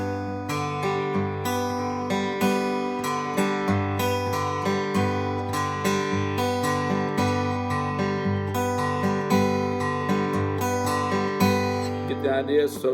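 Fingerpicked acoustic guitar with the thumb and middle finger plucking together in a repeating pattern of alternating bass notes and treble strings, steady and even, heard alone.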